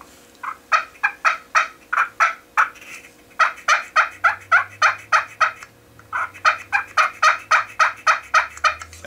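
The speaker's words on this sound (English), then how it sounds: "On a push button box call is the easiest call you do." Push-button box turkey call producing yelps, sharp rapid series of clear gobble-like notes repeated in three bursts, close and loud with no talking.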